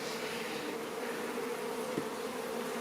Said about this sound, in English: Oh, they're making tons of bees.